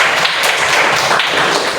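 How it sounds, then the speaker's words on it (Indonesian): Hands clapping together in a classroom make a steady patter of applause for the whole short stretch. It is fairly loud and close, and nobody talks over it. "Ya, tepuk tangan."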